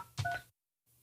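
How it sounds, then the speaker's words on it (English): Keypad tones from a Cisco VoIP desk phone sound as a couple of quick beeps close by, followed by a brief silence and a faint return of background hum. "I'll dial the number."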